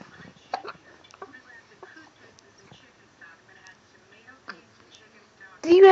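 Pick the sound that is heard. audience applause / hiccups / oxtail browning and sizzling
hiccups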